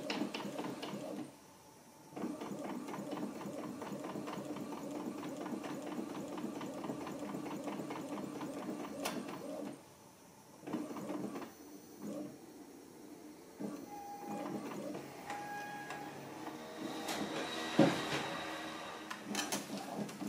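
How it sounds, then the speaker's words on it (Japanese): An inkjet printer runs a mirrored print onto a transfer sheet on plain paper fine mode, giving a steady mechanical whir and rapid carriage chatter with two brief pauses, close and continuous, with no speech. "普通紙キレイモードで反転で印刷します"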